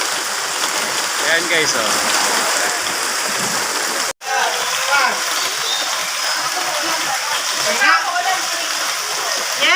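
Heavy rain pouring steadily around a pre-birthday celebration, a constant dense wash of falling water with splashing, while people talk and exclaim over it nearby.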